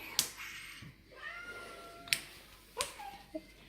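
A pet cat meows a few times in a home, with soft rising cries between sharp clicks or taps, fairly faint and close by with no talk over it.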